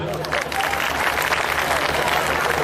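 A lecture audience claps together in a continuous, fairly loud burst of hand clapping that fills the whole moment, with voices faintly mixed underneath.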